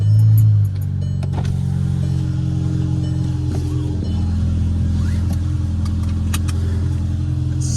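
A Volkswagen Passat 1.8T turbo engine idles steadily up close, not fully warmed up and fitted with a new 3-inch downpipe with catalytic converter, giving a continuous low rumble with a slight dip early on and small clicks on top.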